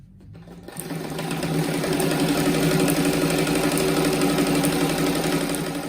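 A sewing machine starts up and stitches fabric for a patchwork rug, a fast steady mechanical whir and clatter close by, running continuously after a brief quiet start.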